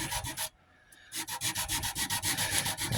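Hand sanding works hull details on a Belknap class cruiser model in quick rhythmic scratchy back-and-forth strokes. A brief pause comes early, then the fast, evenly spaced strokes continue close up and alone.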